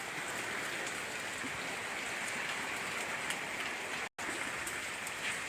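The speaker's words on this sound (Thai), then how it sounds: "มีแต่ฝนตก" Steady rain falls in a dense, even hiss that stays constant and fairly close throughout, with one brief dropout near the end and no voices.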